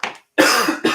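A single close cough bursts out, with a short rasping onset, a brief gap, then a harsher, longer throaty hack trailing into another breath.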